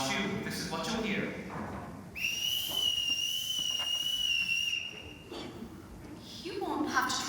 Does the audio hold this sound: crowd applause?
no